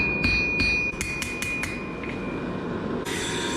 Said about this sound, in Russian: Тяжело вот так вот молотом, у ребят тут вообще крепкие мышцы.